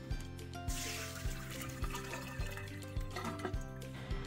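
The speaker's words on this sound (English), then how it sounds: "So next we are going to strain the farro wheat" Soaked farro wheat draining in a strainer, a steady trickle of water running through the grains and splashing below, heard alone over a low repeating background beat.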